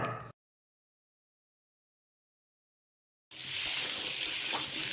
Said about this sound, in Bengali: এখানে কিন্তু আমাদের আলুটা ভাজা চলছে